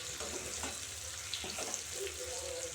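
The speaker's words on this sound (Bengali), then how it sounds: "এখন মশলাটা হালকা কষানো হয়েছে," A spice masala with Kashmiri chilli powder, turmeric and a little sugar sizzles gently in a pan, a steady, fairly quiet frying hiss close by.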